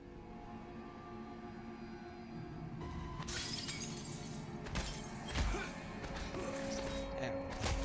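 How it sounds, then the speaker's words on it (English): Glass shatters in the video game Prey (2017), with several sharp crashing breaks and tinkling debris over a low ambient hum, the loudest impacts near the middle. "I like how glass is breakable."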